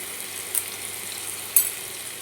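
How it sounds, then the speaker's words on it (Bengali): Pieces of elephant foot yam frying in oil with salt and turmeric, a soft, steady hiss of sizzling with two brief sharper crackles or stirring taps. "ওই তেলেই আমি ওলগুলো একটু ভেজে নেব নুন হলুদ দিয়ে"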